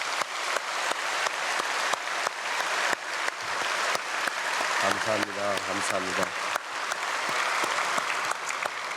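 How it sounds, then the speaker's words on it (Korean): A church congregation at a Korean early-morning prayer service breaks into sustained applause, with sharp claps rising and falling throughout, while a voice speaks over it and brief organ-like tones swell in the middle. "아이들 사랑의 마음 담아서 박수로 축복하겠습니다."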